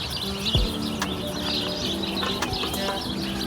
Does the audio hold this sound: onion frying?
no